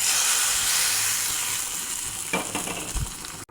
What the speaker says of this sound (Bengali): এই যে দেখুন, পেঁয়াজ রসুনটা আমি ব্রাউন করে ভেজে নিয়েছি। এখন ডালের মধ্যে ঢেলে দেব।